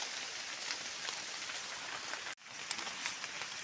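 Steady rain pours down outdoors during mushroom foraging in the rainy season, a dense continuous hiss of drops pattering on surfaces nearby, broken briefly by a short dip before resuming at the same level.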